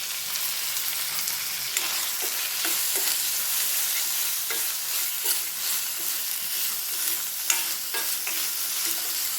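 Tomato pieces fry in a pan, giving a steady, dense hiss of sizzling with faint stirring scrapes, close and moderately loud throughout with no voices.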